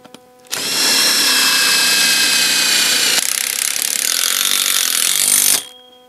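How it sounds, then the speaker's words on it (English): A power drill drives a self-tapping screw into the metal bow of a DIY hoop house, one loud, steady whine of about five seconds that shifts pitch midway as the screw seats, with no talking. "And then I'm gonna put the self-tapping screw back in."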